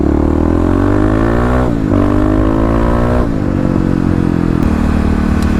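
A loud Kawasaki KLX351 motorcycle engine revs hard, its pitch climbing and dropping in several throttle bursts, close by and with no talking.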